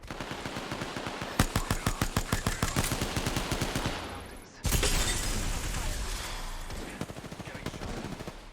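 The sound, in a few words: gunfire in a video game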